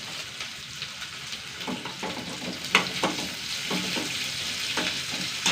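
Curry leaves fry in a pan with small shallots, giving a continuous crackling sizzle broken by brief scraping stirs, close and fairly loud with no talking.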